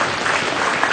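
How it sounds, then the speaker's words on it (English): A crowd claps for the exhibitors at a dairy cattle show in a dense, steady round of applause. It sounds loud and sustained across the whole moment, with no clear voices above it. "I think all these exhibitors need a tremendous round of applause."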